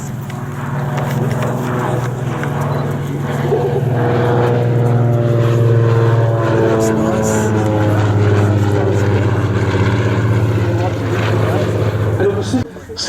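A twin-engine Lockheed 12A Electra propeller plane runs at the 2024 East Kirkby Air Show, its engines giving a loud, steady, droning hum for the whole stretch, with voices faintly in the background.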